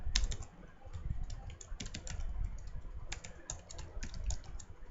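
Computer keyboard typing HTML code, rapid irregular clusters of close, crisp key clicks with short pauses between bursts, no talking.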